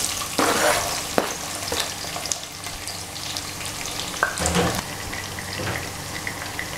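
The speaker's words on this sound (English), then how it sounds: "Okay guys, I think our oil is hot already. I'll be throwing in some onions." Onions tossed into hot oil crackle and sizzle steadily up close, with occasional sharper pops and the scrape of a spoon stirring the pan, while preparing tomato sauce with smoked mackerel.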